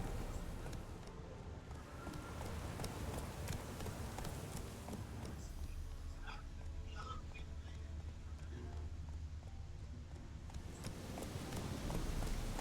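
Geralt's horse Roach galloping in The Witcher 3: Wild Hunt, a quick, steady clip-clop of hooves under wind, with someone speaking quietly over the hoofbeats.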